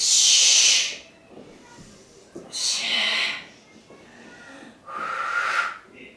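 Forceful breathing during a Pilates exercise: three sharp, hissing exhales, each lasting under a second, with quieter breathy sounds between them.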